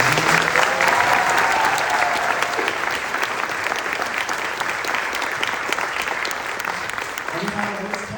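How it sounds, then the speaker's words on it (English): Loud, sustained audience applause for a guest at a Country Bears event at Walt Disney World's Magic Kingdom, a dense roar of many hands with faint voices and cheers mixed in, easing slightly toward the end. "Big round of applause for Ken Richardson."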